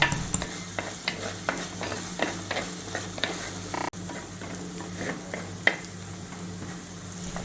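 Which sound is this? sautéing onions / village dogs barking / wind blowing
sautéing onions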